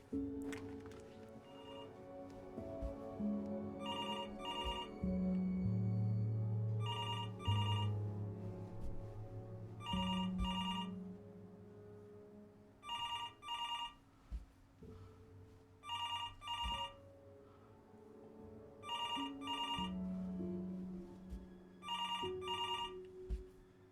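A telephone rings repeatedly in the video game Before Your Eyes, sounding in regular short bursts of bright trilling bells over a soft, sustained musical backing, about nine rings in all.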